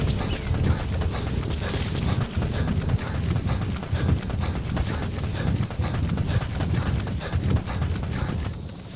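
A horse gallops in the video game Metal Gear Solid V, its hooves beating a steady, rapid clip-clop rhythm loudly and continuously with no talking.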